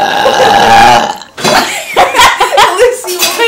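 A loud, long, croaking burp at close range during a burping contest, breaking off briefly and then rolling on in a gurgling second stretch.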